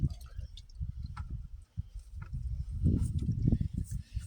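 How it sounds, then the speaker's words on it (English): Water from a tipped bucket splashes over hands being rinsed outdoors while dividing an old rhubarb plant, irregular close drips, squishes and splatters onto wet soil. "Rinse my hands off a little bit."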